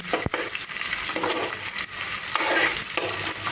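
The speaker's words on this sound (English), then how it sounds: "the onions have been added. Now I'm going to stir them around." Onions frying in a pan for khichdi, stirred with a steady scraping and a continuous sizzle, close and moderately loud with no talking.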